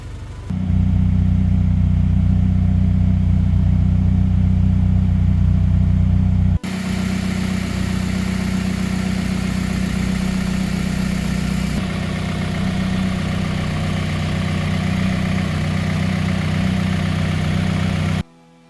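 A Honda fitted with a swapped JDM F20B VTEC engine idles steadily and loud up close, a deep rumbling hum that continues after a brief break, with no talk over it.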